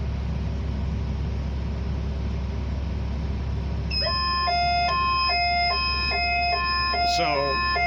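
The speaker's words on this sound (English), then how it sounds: "If we get down to 23 degrees, it's going to sound an alarm" On a Sany SCC8100 crane, a low boom angle warning alarm kicks in partway through, sounding a loud repeating two-tone electronic pattern over a steady low engine drone, with another brief chirp layered near the end.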